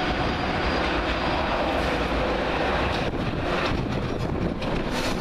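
A Virgin Trains East Coast service from London King's Cross to York pulls into Peterborough station, a steady loud rumble of wheels and carriages with faint clickety-clack and wind buffeting the microphone throughout, no voices.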